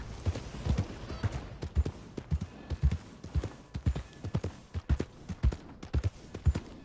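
Horse hooves clip-clop in a steady walking rhythm in the video game Red Dead Redemption 2, close and distinct, repeated thuds with no talking.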